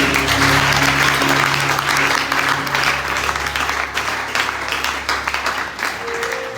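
Church congregation applauding continuously and loudly, a dense wash of many hands clapping with steady sustained tones running beneath, fading slightly toward the end.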